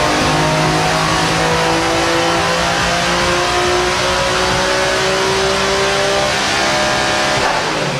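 A car engine revs hard and steadily on a dyno in the APEXi workshop, testing a super bomber muffler, a loud sustained mechanical roar at close range with shifting pitch and no talk.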